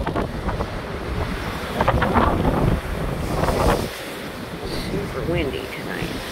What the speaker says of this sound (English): Super windy tonight.